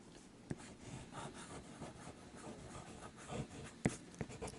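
A bamboo calligraphy pen nib scratches across paper while writing with ink, a faint close rustling scrape punctuated by a few sharper strokes and taps, heard alone without talk.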